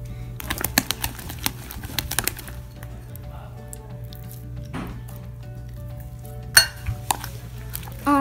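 Homemade slime is being mixed with Tide detergent in a bowl, producing repeated wet squishing and sticky slapping with scraping clicks of the utensil, close and fairly quiet, with a few scattered sharper knocks.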